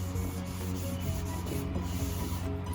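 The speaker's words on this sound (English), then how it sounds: "I just like using cloth and rubbing it in" An old cloth rubs finish into a wooden dining table during a furniture makeover, heard as a steady, continuous close swishing friction with slight rhythmic pulses and no talk.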